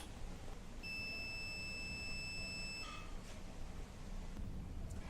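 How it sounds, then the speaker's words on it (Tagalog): An SRNE off-grid/grid-tie hybrid inverter sounds a fault alarm after its batteries are disconnected: a single steady high electronic beep lasting about two seconds over faint background hiss. "makikita nyo may alarm dito"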